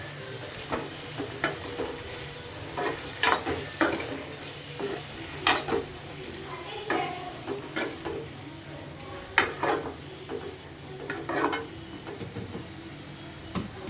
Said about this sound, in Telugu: అది దగ్గర పడేంత వరకు మంచి ఇట్లా కలుపుకుంటూ ఉండాలి